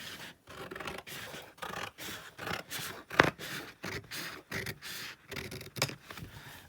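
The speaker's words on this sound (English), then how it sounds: "So I'm going to cut just inside those lines so it's a little bit smaller." Scissors snip through card while a journal cover is trimmed, a series of short rhythmic crunching cuts about every half second, close up and fairly quiet, with no talking.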